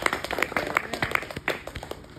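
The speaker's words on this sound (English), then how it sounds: "Give Mama a hand clap for praying all that through." Church congregation clapping hands in a loose, uneven rhythm, several sharp claps close by over a quieter room.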